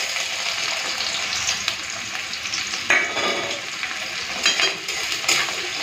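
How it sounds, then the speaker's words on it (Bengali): Chopped onions sizzle steadily in hot oil with black cumin seeds, with occasional stirring scrapes and brief spatters, fairly close and continuous with no voice. "পেঁয়াজটা হালকা লাল করে ভেজে নিই"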